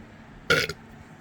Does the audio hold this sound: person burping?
yes